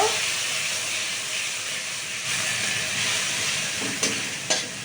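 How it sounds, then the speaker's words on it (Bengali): Ginger, garlic and banana flower fry in a hot pan with a steady, loud hiss of sizzling oil, broken near the end by two brief scraping stirs. "আর এরপর কি মোচাটা দিয়ে দেবেন আদা রসুনটা ভালো করে ভেজে নেবেন"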